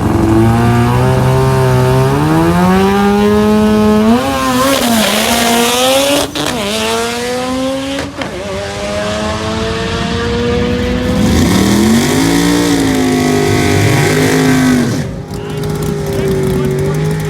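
A turbocharged drag race car makes a pass down the strip, its loud engine revving and climbing through several gear changes with rising and falling pitch, while people talk over it.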